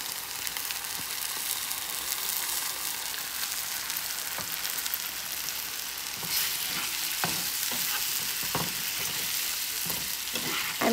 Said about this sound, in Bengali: আদা রসুন পেস্টটা দিচ্ছি যাতে গন্ধটা কাঁচা গন্ধটা চলে যায়, একটু ভাজা ভাজি করে নিচ্ছি।